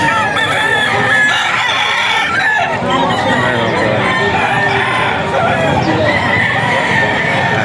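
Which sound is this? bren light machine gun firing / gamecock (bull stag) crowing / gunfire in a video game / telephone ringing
gamecock (bull stag) crowing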